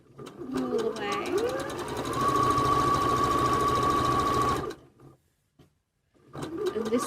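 A sewing machine running rapid stitches along a bucket hat brim, loud and steady for several seconds, pausing, then starting again, with someone talking over the start.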